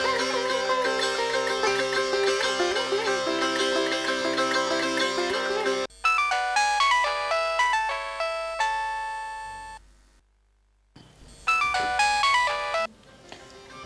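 A melodic electronic phone ringtone plays in repeating phrases, with a brief silent gap before the tune resumes, loud and close.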